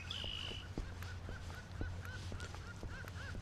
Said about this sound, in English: Holy birds. Hear that one?